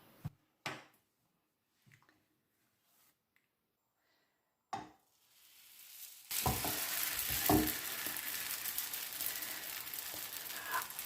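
Coriander and paprika flatbread dough, brushed on top, going into a pan on a medium-low fire: a few soft knocks and handling sounds, then a steady sizzle that starts abruptly and continues to the end.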